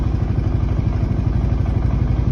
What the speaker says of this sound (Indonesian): Ini saya nyalakan dulu ya, biar motor nggak terlalu lama nahan